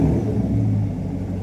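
A Chevrolet Corvette engine idling right after startup, a deep, loud, close rumble with a steady low throb and no talking.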